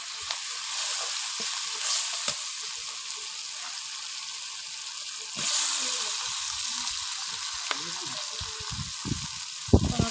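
Cumin paste sizzles and fries steadily in a hot pan while a fish curry of pomfret is being cooked, with brief stirring and clinks, and no one speaks.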